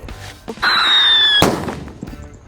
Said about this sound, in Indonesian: di sini adalah mercon-mercon yang suaranya banter teman-teman,